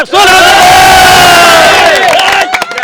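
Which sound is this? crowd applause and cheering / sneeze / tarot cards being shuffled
crowd applause and cheering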